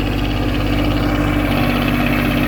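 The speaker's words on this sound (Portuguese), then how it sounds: "Ali a parte do motor MWM 3 cilindros a diesel" An MWM three-cylinder diesel engine drives the generator on a linear irrigation pivot, idling close by with a loud, steady low throb and constant vibration throughout, with no voices.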